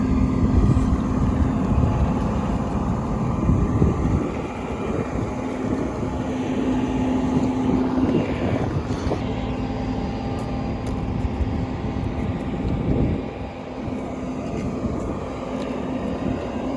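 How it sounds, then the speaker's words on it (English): Small propeller airplane: a steady, loud engine drone with a low hum, heard continuously from inside the cabin. "a smaller plane with propellers"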